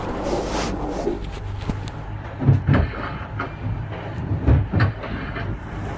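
Rough seas and strong wind rush loudly around a Leopard 40 sailing catamaran on passage from Trinidad to Grenada, a constant roar with heavy surges as waves strike the hull.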